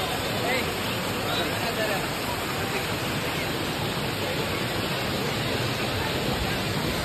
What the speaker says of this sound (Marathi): आलोय भाजी वॉटरफॉलला, एकदम क्लास आहे इथे।